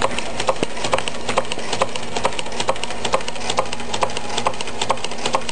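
A candle-powered Meccano Stirling engine, a Mark 3 unit with a single crank driving both piston and displacer, ticks steadily and quickly with a light mechanical clatter, close by and alone.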